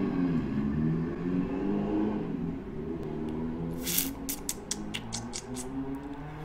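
A car engine revs and drones on a road, rising and falling in pitch, with scattered clicks and spray-like bursts over it.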